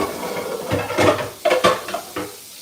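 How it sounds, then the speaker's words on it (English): Pans and dishes being washed, with a handful of close metallic clanks and clatters in uneven bursts over a low kitchen background, no voices. "Y'all hear them pans I gotta wash?"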